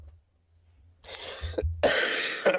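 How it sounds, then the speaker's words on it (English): After a near-silent start, a harsh cough bursts out, a brief catch, then a second, louder cough. "one last cough, I hope"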